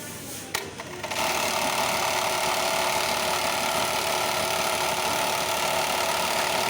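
An industrial sewing machine stitches an elastic joint on a garment top. A brief start-up is followed by a fast, steady, mechanical stitching hum that runs close and loud to the end.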